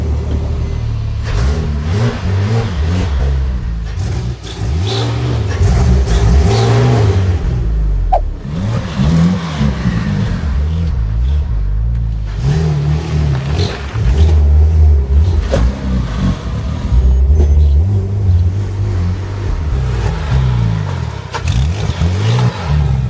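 A rebuilt Porsche 997 911 Turbo driving, its engine droning and swelling through gear changes with loud continuous wind noise and occasional interior clatter, heard from inside the cabin.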